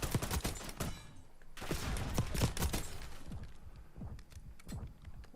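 Rapid automatic gunfire rattles in loud, dense bursts during an online multiplayer match of Call of Duty Black Ops 6, close and dominant, then thins into scattered single shots and softer distant fire.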